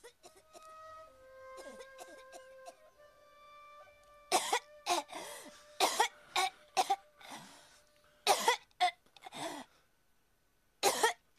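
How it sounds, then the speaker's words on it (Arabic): A boy coughing repeatedly, a series of harsh, closely spaced coughs in irregular bursts after a faint tonal passage, some wet and throaty, fairly near and alone without talk. "شايفتي شلون عم يسعل؟"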